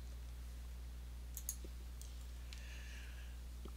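A computer mouse clicks on a trading-software table in a quiet room, giving a couple of soft, brief clicks over a steady low electrical hum.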